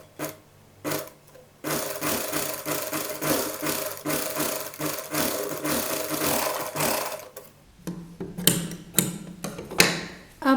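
Sewing machine stitching piping onto the sleeve of a children's Patiala dress, a close, steady motor whir with rapid needle chatter running in long bursts, broken by short pauses and a few sharp clicks near the end.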